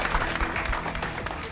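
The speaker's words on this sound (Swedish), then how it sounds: "Vi ger alla en varm applåd till Anton" Studio audience applauding a contestant on a pike-fishing competition show, dense clapping heard briefly and loud throughout.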